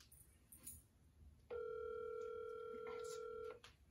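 Outgoing phone call ringback: a steady electronic ringing tone starts abruptly and holds for about two seconds before cutting off, over quiet room noise.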